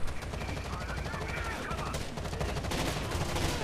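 Gunfire fills a firefight in the video game Rainbow Six Vegas 2, with dense, continuous loud shots and bursts mixed with game noise from start to finish.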